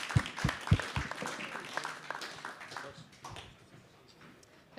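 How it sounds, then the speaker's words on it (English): Audience applause at a theater talk session during a conference, a few loud claps up front thinning into scattered, fading clapping across a hall. "So let's give them a round of applause."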